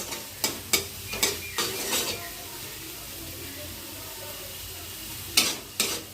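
Green peas fry in a pan for an egg and pea curry, with a steady soft sizzle broken by a few sharp stirring scrapes near the start and again near the end, no talking.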